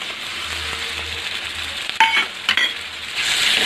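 Ground paste of green chili, cumin and garlic sautés with softened onions in a pan for cauliflower gravy, a steady close sizzle with a few sharp stirring scrapes and clinks near the middle, no talking.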